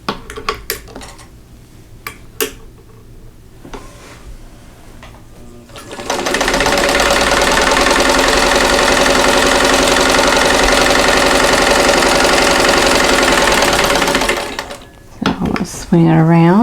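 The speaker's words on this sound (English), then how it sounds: "sew a 1/4 inch away from both sides of that drawn line" Quiet handling and a few clicks come first, then a sewing machine runs at a steady fast whir for about eight seconds while stitching pinned quilt block pieces, before stopping amid light rattling.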